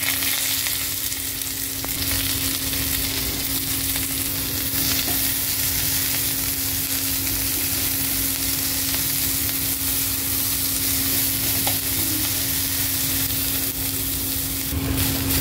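Onions and green chilies fry in oil for a ridge gourd and shrimp dish, a steady dense sizzle running unbroken and fairly loud from start to finish, with no voices over it.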